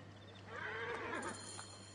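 A horse in the Assassin's Creed Origins video game gives a single whinny rising and falling over about a second, over a steady low game hum, with faint hoofbeats.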